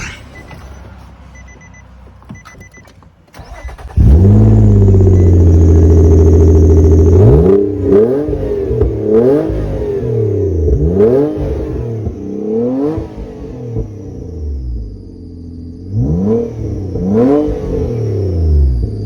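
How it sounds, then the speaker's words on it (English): A 7th-gen Nissan Maxima fitted with a Motordyne exhaust barks into a loud, steady high rev, then gives a string of sharp throttle blips that rise and fall rhythmically, close and alone. "We got a full sound of how the full Motordyne exhaust sounds."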